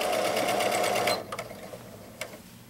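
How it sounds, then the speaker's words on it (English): Janome DC1050 sewing machine running steadily for about a second as it sews from thick to thin fabric, then stopping. A few light clicks and handling noises follow. "you'll see how easy it is to sew from the thickest to the thinnest, all on the Janome DC1050"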